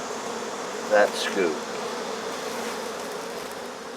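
Honey bees buzz steadily around a hive being removed in Central Florida, a dense continuous drone with a few louder passes of individual bees close by; a voice speaks briefly.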